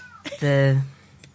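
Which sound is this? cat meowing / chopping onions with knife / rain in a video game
cat meowing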